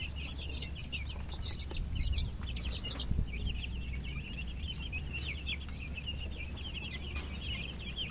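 Boston Roundhead chicks forage on open range, chirping and clucking in a busy, continuous chatter over a low steady background rumble, with no talk.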